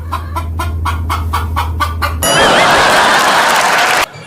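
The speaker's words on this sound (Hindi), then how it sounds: "मुर्गी फौरन सही सलामत जिंदा खड़ी होकर आवाज निकालने लगी" A hen clucks in a series of short, evenly spaced calls over a low steady hum, then a loud broadband burst of noise takes over and cuts off abruptly near the end.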